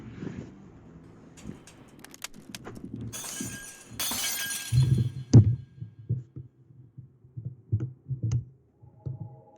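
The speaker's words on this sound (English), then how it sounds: "I like the glass shattering effect." Glass shatters in a burst of crashing, tinkling shards as a sound effect in the Famicom Detective Club video game, preceded by scattered clicks and followed by low thumping game sounds.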